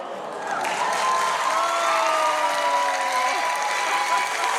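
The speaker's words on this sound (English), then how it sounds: "after the audience gasps and applauds" A television studio audience gasps and breaks into sustained applause and cheering, a dense, loud wash of clapping that swells after a quieter start and holds steady throughout.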